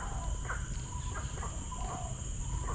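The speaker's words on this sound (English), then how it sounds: "you can hear the noise of birds." Birds and insects calling in a tropical wetland reserve near a museum gallery, a steady bed of cricket-like chirring with scattered short bird calls throughout, moderately distant and without speech.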